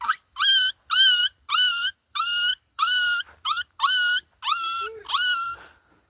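A child imitates a small dog, giving a quick series of about nine high, yelping barks with short gaps between them, loud and close.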